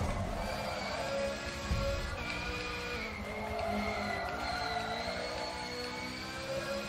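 A race car engine in Forza Motorsport 7 drones at high revs, with a whining, buzzing tone and shifting pitch as gears change, heard steadily without talk.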